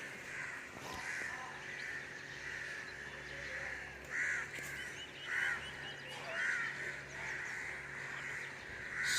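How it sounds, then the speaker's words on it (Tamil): Crows caw in short repeated bursts at sunrise, several calls spaced a couple of seconds apart over a steady outdoor background hum. "கூட்டமாக ஒரு 4 பேர்ட்ஸ் போகுது."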